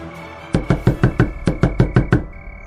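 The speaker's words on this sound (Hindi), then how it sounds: "कुणाल ने कांपते हाथों से दरवाजा खटखटाया।" Nine sharp, evenly spaced knocks on an old wooden door, a cartoon-style effect, loud and close with no voices, over a quiet background hum.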